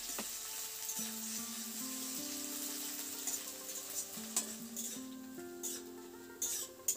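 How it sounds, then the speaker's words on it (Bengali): Chopped onions fry in hot oil in a pan for a Bengali-style potato and peas curry, giving a soft, steady sizzle with a few light clinks from stirring. "পেঁয়াজটাকে একটু লাল লাল করে ভেজে নেব"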